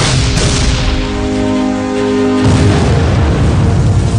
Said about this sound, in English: The ordnance delivers shells that explode on impact.